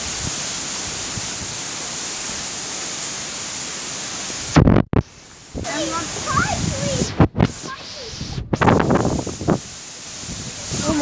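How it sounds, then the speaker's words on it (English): Strong wind roars during a gray stormy afternoon, a dense continuous rush that fills the opening seconds before a person starts talking over it with sharp buffeting bumps. "I hear the wind. The wind"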